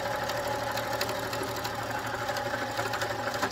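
A sewing machine back-stitching a two-piece fabric gift bag runs with a steady, fast mechanical chatter and hum, close and continuous throughout.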